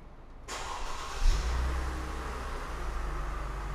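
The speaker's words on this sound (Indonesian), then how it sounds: "nanti kita dengerin ke depan dari suara mesin pas saat saya hidupkan" A Mercedes-Benz W204 C280 Avantgarde engine cranks and catches after a moment of quiet, briefly revs, then settles into a steady low idle, close by with no talking.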